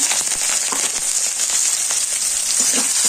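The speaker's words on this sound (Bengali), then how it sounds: "তারপর একটা তেজপাতা, পাঁচ ফোড়ন দিয়ে দিলাম, একটা শুকনো মরিচ, তারপর মাছগুলো দিয়ে দিলাম," Fish sizzling steadily in hot oil with a bay leaf, panch phoron and a dried chili, a bright continuous hiss with small crackles and occasional stirring taps, close and fairly loud with no voices.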